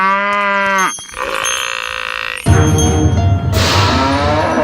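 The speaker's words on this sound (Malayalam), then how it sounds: "ഇനം ജേഴ്സിയാ. നല്ല അടക്കം ഒതുക്കം ഉള്ളവളാ ഇവള് മാളൂട്ടി." A Jersey cow gives one long, low, drawn-out moo up close, and then rougher farmyard noise follows.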